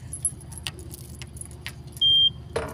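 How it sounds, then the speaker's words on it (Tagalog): Keys jangle and clink in a few bright bursts while a door is unlocked, with a short steady electronic beep near the end, all over a low background rumble. "Gagamit tayo ng ating susi para makapasok."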